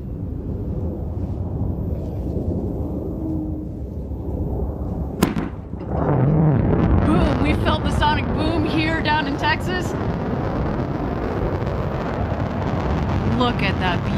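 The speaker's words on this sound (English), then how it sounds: "we're going to wait for the BE-3 engine to relight and bring her down for a nice soft landing" A New Shepard rocket's BE-3 engine relights during descent for landing, a sudden loud rumbling roar that swells and holds steady, with a voice talking over it.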